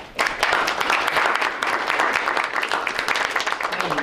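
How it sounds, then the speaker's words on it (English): An audience at a school gathering breaks into applause, a dense, sustained roar of many hands clapping that holds evenly loud throughout. "Yeah, that deserves a round of applause."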